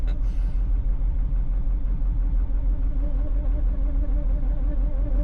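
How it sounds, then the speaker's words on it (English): A vehicle's power steering pump strains in extreme cold at -33°F in Coldfoot, Alaska, giving a steady low groaning drone over a constant engine rumble, close and unbroken throughout. "That power steering pump is not happy."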